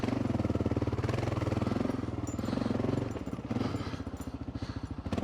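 Rapid, steady chugging thump of a Gen 3 Kawasaki KLR 650 single-cylinder motorcycle fitted with an FMF exhaust pipe, loud and close on an off-road trail, with brief clattering over the beat.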